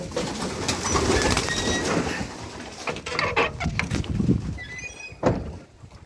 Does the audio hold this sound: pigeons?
yes